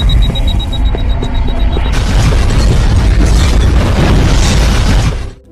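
A film explosion erupts as a loud, roaring blast after a quieter stretch with a faint high tone. The rumbling burst sustains for several seconds before cutting off abruptly.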